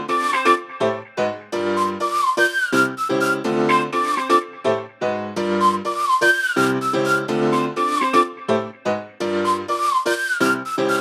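A whistled melody rides over a rhythmic guitar layer in a music mix, the whistle track lightly ducked by a free sidechained plugin, so phrases pulse in and out with the plucked chords, close and loud with no voices.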